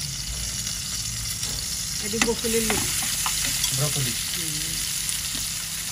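Onions and green chilies sizzle steadily in hot oil in a pan on a stove, with faint stirring scrapes and a voice talking over the frying.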